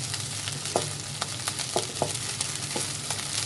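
Seafood fried rice stir-fried in a Teflon pan, a steady soft sizzle with repeated scraping and tapping of a spatula against the pan as the rice is turned, close and fairly quiet with no talk.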